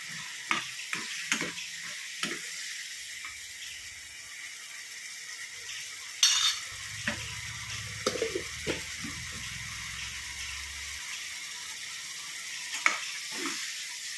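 Rambutan pickle with fenugreek powder stirred in a hot pan, a faint continuous sizzle broken by scattered clicks and scrapes of the spoon, with a brief louder bubbling stretch midway.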